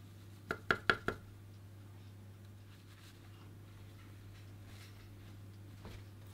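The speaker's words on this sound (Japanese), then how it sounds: "よく切れる包丁でまず細かく切っていきます" A sharp kitchen knife chops washed Italian parsley leaves on a board in a quick burst of four crisp taps, then a lone tap later, over a steady low hum.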